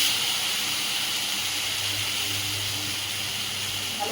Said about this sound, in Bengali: এখানে পেস্ট করে রাখা মশলাটা দিয়ে দেবো।